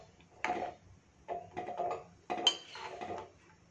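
Spoon stirring soaked peanuts into spicy tomato bath in a cooking pot, giving a few separate scraping, clinking strokes against the metal in short bursts, close and fairly quiet with no talking.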